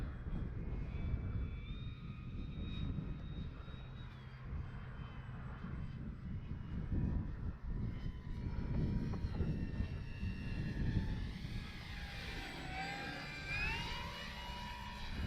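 A Dynam F6F Hellcat RC model plane flies with a steady electric motor drone on its maiden flight, holding at moderate distance and swelling and shifting in pitch as it passes, with a brief whine rising near the end.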